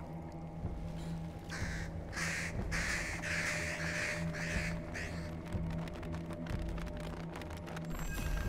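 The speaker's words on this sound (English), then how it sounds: "Look at the crows up there." Crows caw repeatedly in the Bramble: The Mountain King video game, a run of loud, close calls in quick succession over a steady low ambient drone, then fading into scattered clicks and background tones.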